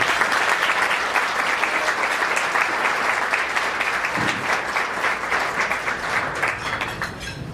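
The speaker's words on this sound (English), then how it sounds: "can we have another big round of applause for all the recipients, all the honorees?" Audience at a scholarship foundation gala applauding the honorees, with dense continuous clapping from a large crowd that holds steady and loud from start to finish.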